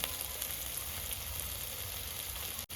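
Ginger spice paste sizzles and fries steadily in a hot pan, only half-fried, a continuous close crackling hiss with no talk.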